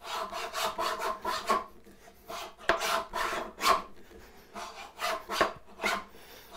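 A hand tool rasps back and forth in quick, rhythmic strokes as it cuts down into a wooden bridle joint, used like a saw. The strokes are close and moderately loud, with short pauses, and no voices.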